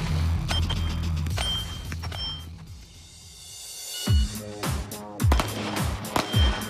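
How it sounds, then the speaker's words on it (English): Revolver fired at six targets in a wheelgun-versus-pistol shooting match, several sharp close reports in quick succession in the second half, after a stretch of steady background noise. "Tarr shooting a revolver. He's got 6 shots, he's got 6 targets"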